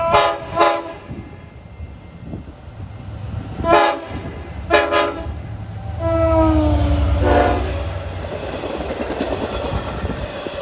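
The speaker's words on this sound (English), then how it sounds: "This guy usually gives a few extra blasts on the horn." Diesel commuter train 666, running from Hunters Point to Port Jefferson, passes New Hyde Park sounding several loud horn blasts in quick bursts before its rumble and rail clatter swell and roll past nearby.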